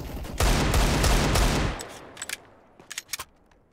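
Gunfire in a CS:GO match on Dust2, a dense loud burst of automatic fire lasting over a second, then quieter scattered distant shots and clicks trailing off.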